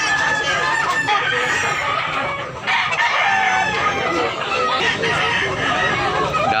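Roosters crow loudly and repeatedly over steady clucking from many chickens for sale at a busy market in Tabunok, Talisay, Cebu, with people talking throughout the crowded scene.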